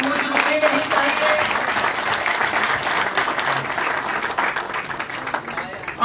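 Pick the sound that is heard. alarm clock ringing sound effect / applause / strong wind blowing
applause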